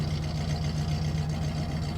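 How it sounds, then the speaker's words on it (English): A Hurst/Olds car engine, running again after sitting unused for a very long time, idles with a steady low rumble and an even, unbroken drone, close and moderately loud, with no talking. "Now you're listening to this motor run that hasn't run in a very long time."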